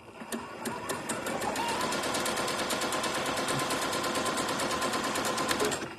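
A Janome sewing machine runs steadily through a lock stitch, its needle hammering in a rapid, even rhythm that stays loud and close for the whole stretch without any talking.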